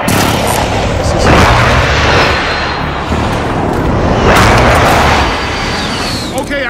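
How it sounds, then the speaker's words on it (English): Heavy explosions from an airstrike in Call of Duty: Modern Warfare boom loudly in two big rumbling waves amid scattered gunfire, with radio chatter talking over the battle. "Be advised, friendly position airstrike inbound."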